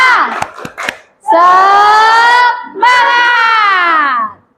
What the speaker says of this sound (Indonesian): kita tepuk semangat lagi